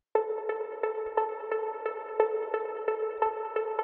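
Techno pluck synth patch from Serum, a short bright plucked tone repeating in a steady rhythm about every third of a second, with clear harmonics, loud and alone with no voice.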